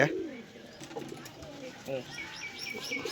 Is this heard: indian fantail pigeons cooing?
yes